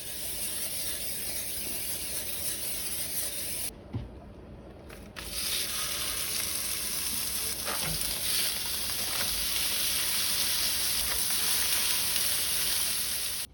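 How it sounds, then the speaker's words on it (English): Four 7-ounce Salisbury steaks sizzle loudly and steadily on a grill pan, a broad close-up hiss that drops out for a moment and then comes back, with a few faint knocks and shifts of the meat and no talk. "Now I'm ready to put them on the grill pan."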